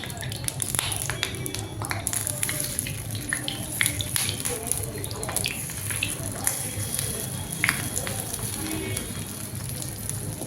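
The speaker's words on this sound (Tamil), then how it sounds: "இப்போ நம்ம வந்து பணியாரம் ஊற்றலாம்." Egg paniyaram batter sizzling in a hot oiled paniyaram pan, a steady close crackle and hiss with faint ticks running continuously throughout, with occasional speech heard over it.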